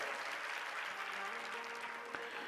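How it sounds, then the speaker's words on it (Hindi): An indoor audience claps steadily in a soft, dense patter that continues evenly throughout, faint and distant in the room. "आप तालियां कुछ ज्यादा तो नहीं बजा रहे हैं"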